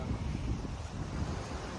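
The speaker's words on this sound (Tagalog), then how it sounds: "Sa dagat kami ngayon." Steady seaside wind noise buffeting the microphone over a constant wash of surf, loud and unbroken throughout with no voices.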